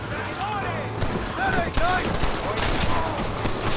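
Gunshots in the Red Dead Redemption video game, played on Switch: scattered shots ring out over a busy, steady game background, with whistling ricochet-like sweeps. A voice talks throughout.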